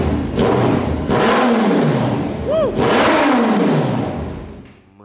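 A loud engine revs hard several times through a throaty exhaust, each rise and fall sweeping up and down, close by, with a brief chirp in between.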